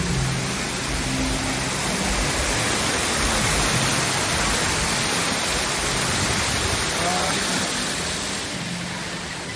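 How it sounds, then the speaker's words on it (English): Heavy waterfall at the Toverland theme park, a dense, loud, continuous roar of falling water heard up close from underneath, steady throughout with no talking. "You can walk under this waterfall."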